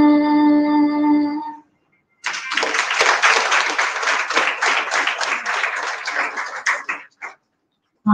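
Audience in a hall breaks into applause after a devotional Thiruppavai song at a Pavai festival competition. A sung note fades out first, then after a short pause dense, loud clapping fills about five seconds before dying away.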